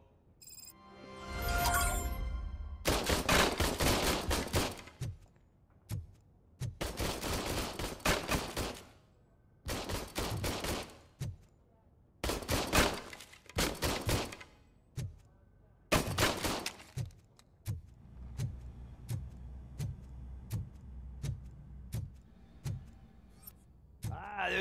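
Gunfire at a shooting range in a RoboCop video game, with repeated loud bursts of automatic fire and volleys separated by short pauses, followed by lighter, sparser shots and clicks toward the end.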